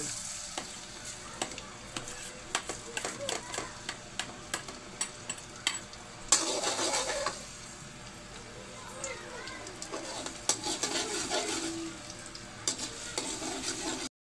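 Green peas and garlic hitting a hot pan for a stir-fry set off a sudden loud sizzle, with earlier clacks of utensil taps and stirring. Someone talks over the cooking sounds.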